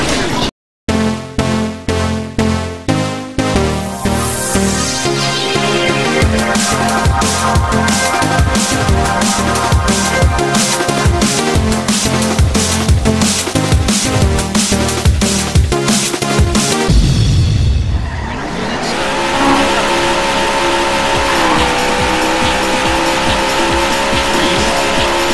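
Race car engine in the Sega arcade racer Daytona USA: a quick series of revving bursts, then a loud, sustained high-pitched engine roar with rapid gear-change pulses and tire squeal, shifting near the end into a steady drone.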